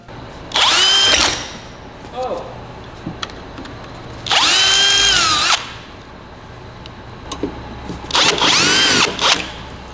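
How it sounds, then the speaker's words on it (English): A power drill bores out rivets on an Audi 90 quarter window in a body shop, three loud whining bursts of about a second each with pitch rising and falling, separated by quieter pauses with faint clanks. "John got the quarter window out for us so we can drill these rivets out."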